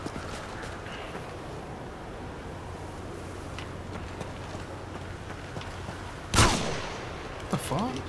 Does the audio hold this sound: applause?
no